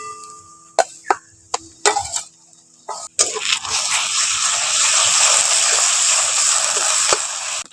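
Nut spice paste drops into hot oil over onions fried until brown. A few sharp taps and clacks come first, then a loud, steady sizzling hiss bursts up and holds to the end.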